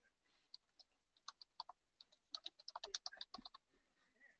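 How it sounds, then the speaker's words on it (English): Typing on a computer keyboard, quiet, close clicking keystrokes in irregular bursts that speed into a rapid flurry midway before trailing off. "I am subjecting you to my typing"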